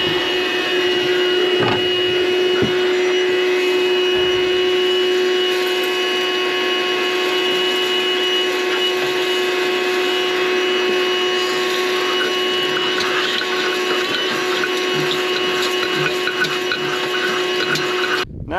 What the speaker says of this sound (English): Our belt's slipping. Oh yeah, she's rolling over.